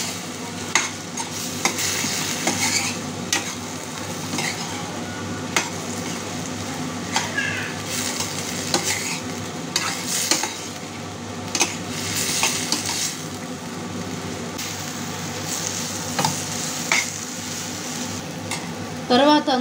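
Pre-fried chicken pakoda pieces stirred in sauce in a pan for chilli chicken, with a steady close sizzle broken by repeated scraping and clinking of a utensil against the pan.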